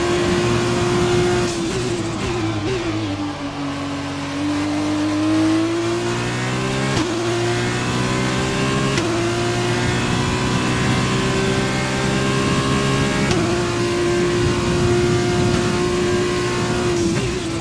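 An F1 2020 video game race car engine screams at high revs on a final lap, its loud sustained whine dipping and climbing through downshifts and upshifts, continuous and close throughout.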